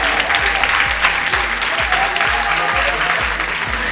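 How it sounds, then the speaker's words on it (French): A conference audience applauds, dense and loud, a continuous roar of clapping hands heard close throughout without pause. "On peut les applaudir."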